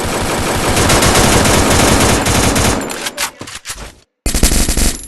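Rapid automatic gunfire from the video game Free Fire MAX, loud and dense bursts for about three seconds, then scattered shots, a brief silent gap and another burst of firing.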